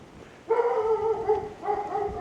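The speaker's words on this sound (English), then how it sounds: "Someone's dog does not like me right now. You can hear it barking." A dog barks twice, a drawn-out, whiny bark at moderate distance, each call trailing off into a slight whimper.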